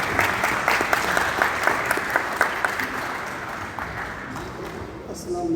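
An audience at a charity fundraiser for Pakistan flood victims applauds loudly and steadily, dense clapping that thins slightly toward the end, with faint voices underneath.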